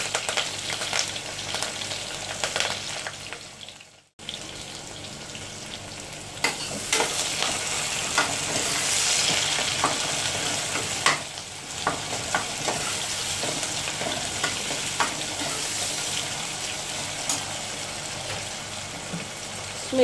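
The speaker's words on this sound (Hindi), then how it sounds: "इसमें नमक ऐड कर देंगे और प्याज को पिंक होने तक फ्राई कर लेंगे" Chopped onions and curry leaves fry in hot oil, a steady close sizzle with stirring scrapes, briefly cut to silence near the start before the frying resumes and continues evenly.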